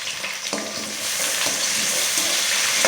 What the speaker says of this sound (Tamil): இப்போ இதுக்குள்ளே தக்காளி சேர்த்துக்கலாமுங்க.